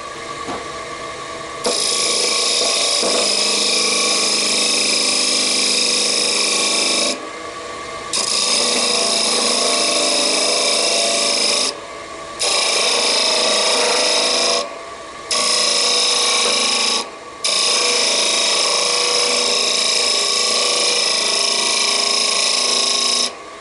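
A wood lathe cuts away excess wood while turning a chess pawn, a loud, steady grinding rasp broken by several short pauses as the tool lifts off and returns.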